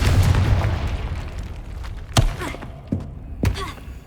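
Confringo spells go off in Hogwarts Legacy, a rumbling blast at the start followed by three sharp, punchy explosive bursts spaced about half a second to a second apart, with debris crackle between them.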